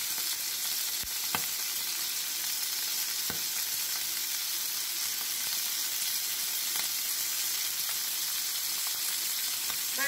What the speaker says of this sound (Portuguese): Vai mexer por aproximadamente aí uns 3 minutos ou até os camarões ficarem rosinhas